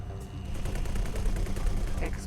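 Rapid, rhythmic weapon fire from a capital ship in the X4 space game rattles on as a dense, continuous barrage, loud and close, with a brief voice in the background.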